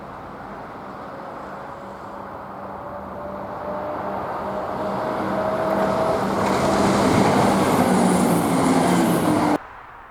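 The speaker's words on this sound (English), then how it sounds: "Class 170, 170-407 passes with the 1207 Glasgow Queen Street to Inverness working." Class 170 diesel passenger unit 170-407 climbing the 1 in 100 gradient toward Carr Bridge, a steady engine rumble with a low droning tone that swells as the train draws closer and passes, then cuts off abruptly near the end.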